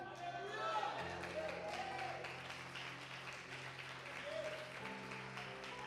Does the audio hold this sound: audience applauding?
yes